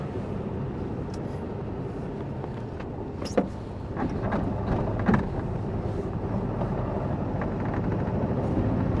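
A 1970s Porsche 914 mid-engine car runs steadily at a moderate distance, a continuous engine drone that swells slightly partway through, with a few faint clicks on top.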